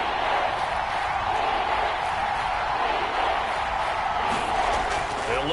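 A football stadium crowd roars steadily at a Chiefs game against Denver, a dense, sustained wall of cheering that stays loud throughout with no break.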